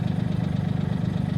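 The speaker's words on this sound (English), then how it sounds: "we're going to be demonstrating the Woods RTR 6040 tractor tiller" A Woods RTR 6040 reverse-tine tractor tiller's engine running at a steady idle, a loud low throbbing drone with an even pulsing rhythm and no voices over it.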